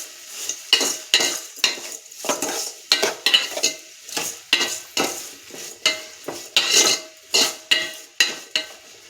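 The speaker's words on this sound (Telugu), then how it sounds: "ఇదంతా ఒకసారి బాగా కలుపుకుందాం." A spoon is stirred through a fish dish with onions and green chillies in a pan, giving a steady run of scraping, sizzling strokes in a regular rhythm, close and fairly loud, with no talking.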